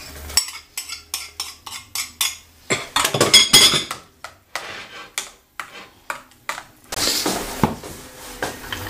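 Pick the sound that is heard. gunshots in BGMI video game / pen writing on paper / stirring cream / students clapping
stirring cream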